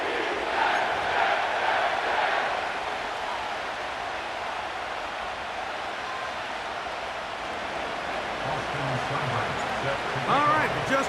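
A stadium crowd in an EA Sports football video game, set at MetLife Stadium, keeps up a broad, steady roar for the whole stretch, with a commentator's voice coming in briefly near the end.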